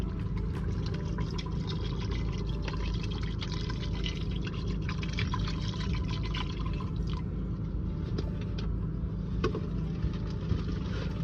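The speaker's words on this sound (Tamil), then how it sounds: "இந்த ரைஸ் குக்கார அளவுக்கு தண்ணி ஆட் பண்ண போகிறேன்." Water poured steadily into a rice cooker pot of basmati rice for chicken biryani, a continuous close splashing and trickling pour that runs the whole time with a low hum beneath and no talking.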